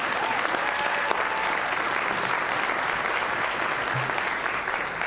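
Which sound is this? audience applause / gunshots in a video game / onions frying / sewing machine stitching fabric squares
audience applause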